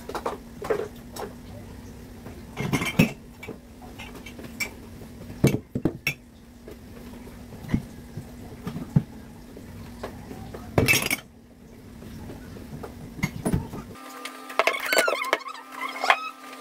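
Plates and cutlery clink and clatter in scattered bursts while dishes are handled nearby, with soft rattles between sharper metallic chinks and a steady low hum.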